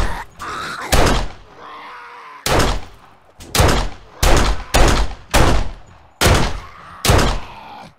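Gunfire in the video game 7 Days to Die: about eight loud, sharp gunshot bursts in an irregular rhythm, each with a short decaying tail, close and dominant with no talk.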